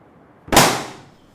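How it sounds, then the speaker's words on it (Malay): A balloon pressed onto a sharp nail bursts in a single loud, close pop during a classroom physics demonstration on force and pressure, with a short fading tail and no other sound. "Belon meletup."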